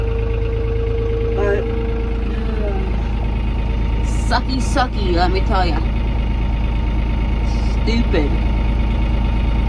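A tractor engine idles at a steady, loud rumble while it drags a long well pump line across a field, and someone talks over it.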